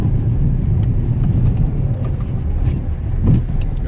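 A Peugeot 207 drifting on a snowy road, its engine revving steadily and loudly up close with continuous road rumble and no talk.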